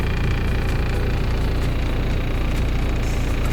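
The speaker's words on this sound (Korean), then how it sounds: "제가 타고 있는 차량은 카렌스2 디젤 차량입니다" An older Kia Carens 2 diesel car with a 2.0-litre four-cylinder D engine runs with a steady, even drone and vibration, heard from inside the cabin with no talking.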